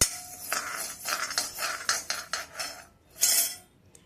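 Moong dal lentils dry-roasting in a pan, heard as a run of bright metallic scrapes and clinks from stirring, coming in irregular bursts with short pauses and one louder scrape near the end.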